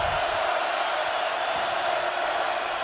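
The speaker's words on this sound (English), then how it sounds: "crowd loud on third and 12" Loud, steady roar of a college football stadium crowd at a Miami vs Florida game during a third-down play, a broad dense wash of noise that stays constant throughout.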